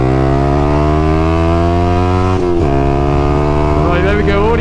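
A Yamaha YZF-R125 motorcycle climbs a country road slope, its engine note holding a loud, steady high whine that dips briefly at a gear change and then climbs again, heard from close by.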